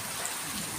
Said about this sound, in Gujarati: અત્યારે અમારા ગામમાં વરસાદ આવ્યો છે